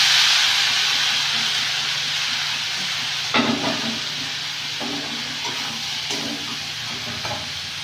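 Cabbage and potatoes hiss and sizzle in frying spice paste in a village kitchen, a loud steady steamy frying with intermittent scraping stirs and light clatter.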